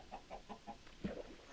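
Soft, rhythmic clucking from a video-game chicken in a swamp biome, four or five evenly spaced clucks followed by a slightly louder squawk, faint and alone.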